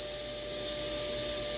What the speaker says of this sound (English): And I've got the vacuum going,